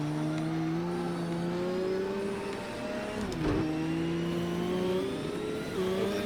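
A Lamborghini's engine drones steadily at high revs while racing on dirt in a video game, its pitch dipping and climbing through gear shifts and corners, with a brief thump midway and no talking over it.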